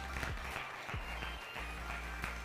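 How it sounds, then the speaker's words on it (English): Audience applause at a startup pitch summit in Johannesburg, a steady wash of clapping filling the room at moderate volume, with faint low rumble and some indistinct voices underneath. "Can we give them a big round of applause?"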